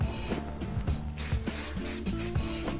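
Short hissing bursts of hair spray misted onto hair during styling, several quick puffs over a soft rustling background, close and fairly quiet.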